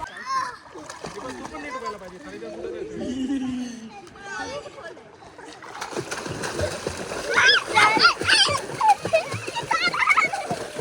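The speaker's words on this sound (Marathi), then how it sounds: "मुलांनी तर ऑलरेडी स्विमिंग चालू केलं आहे" Children chatter and shout while water splashes repeatedly in a resort swimming pool, the splashing growing busier and louder in the second half.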